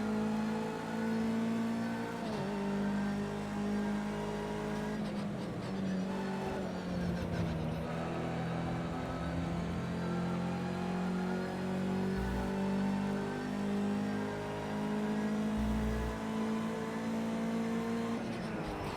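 Race car engine in Project CARS 2, droning steadily with held harmonic tones that rise and fall as the car is thrown through corners on a dry track, with brief dips in revs between gear changes, loud and continuous throughout.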